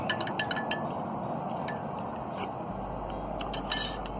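A spoon clinking against a mug while stirring hot chocolate, rapid light metallic and ceramic taps repeating close up over a soft background hiss.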